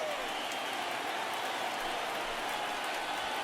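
Stadium crowd of over 37,000 in MLB The Show 19 cheering at an ALDS playoff game between the Yankees and Red Sox, a steady, loud roar of massed voices filling the whole clip without break.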